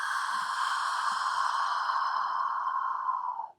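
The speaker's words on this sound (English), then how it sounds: "Big exhale" A child's long, breathy exhale during a kids yoga breathing exercise, with a steady whispery rush that holds for about three and a half seconds and then fades out.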